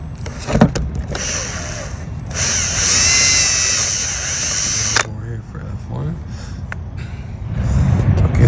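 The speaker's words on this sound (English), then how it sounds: "Okay, so I had to drill a hole here" A power drill boring a hole in a Ford F-350 truck bed door, loud and close in a sustained burst with shorter whirs before and after, with someone talking around it.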